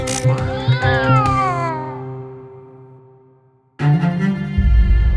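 A close cat gives a long, drawn-out meow that trails off, then a second meow cuts in, with no talking.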